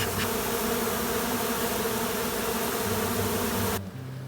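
A swarm of honey bees clustered in a box in August drones in a thick, steady buzz for several seconds, then drops abruptly to a quieter hum near the end.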